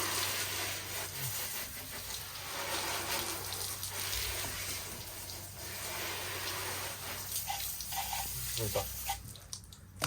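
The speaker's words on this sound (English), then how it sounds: "A nice little rinse off first." Water spraying to rinse the wheel wells of a Toyota Hilux, a steady hissing gush running for ten seconds, with faint splashes and clatter near the end.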